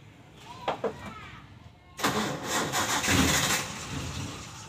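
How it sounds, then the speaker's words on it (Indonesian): A Suzuki Carry Futura with a hot engine and a heavy starter: a couple of short clicks and straining cranking, then the engine catches and settles into a loud, close idle. "Kita tes dulu starternya ya. Coba starter seperti apa suaranya."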